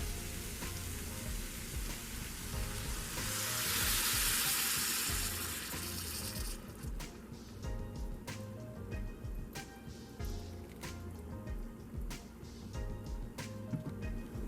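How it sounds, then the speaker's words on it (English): Chickpeas are stirred into seasoning in a pot: a soft wet sizzle and swirl with a hissing surge early on, followed by quieter scraping and sharp tapping clicks of a spoon against the pot. "add your chickpeas, stir this up nicely so the chickpea can be coated with all that good seasoning"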